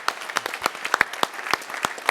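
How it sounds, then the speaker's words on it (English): An audience at a session gives light, sparse applause for Jay: a handful of distinct claps in an uneven rhythm, close and moderately loud. "So a round of applause for Jay."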